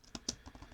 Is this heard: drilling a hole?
no